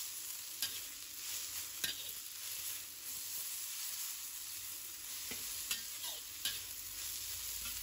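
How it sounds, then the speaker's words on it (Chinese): Sweet potato leaves are stir-fried in a wok, with a steady faint sizzle and occasional clinks and scrapes of the spatula as they are tossed. "然后将番薯叶倒回锅中，快速翻炒。"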